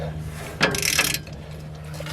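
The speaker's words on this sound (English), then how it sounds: "Let's see if we can make any progress with the ratchet." A ratchet wrench works on a stubborn bolt on a Ford F350 crew cab dually during a rear lift block install, giving one short burst of clicking mechanical ratcheting up close, with quiet surroundings before and after.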